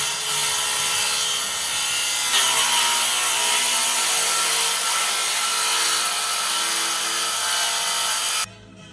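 A power saw cuts stair tread notches into wood, a loud, continuous high whine with a rasping edge that runs without break and then stops sharply at the end.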